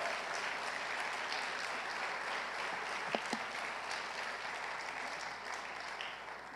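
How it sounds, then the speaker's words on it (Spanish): A church congregation applauds steadily throughout, a dense, sustained clapping from a large crowd filling the room at an even level from start to finish. "Yo quiero que le dé un fuerte aplauso al Dios del cielo."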